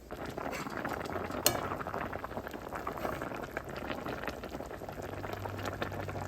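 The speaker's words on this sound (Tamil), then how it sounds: "போட்டு ஒரு கொதி கொதிக்கட்டும்." A pot of kayar fish sothi bubbles at a steady boil, soft continuous gurgling and hissing close by, with a single faint clink of a utensil.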